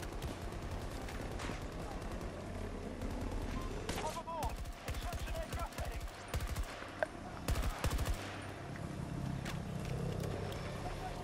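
Gunfire in the shooter video game Battlefield 2042, repeated rapid bursts of automatic shots at close range in dense clusters, with a rumbling vehicle-like drone underneath and a few scattered single shots.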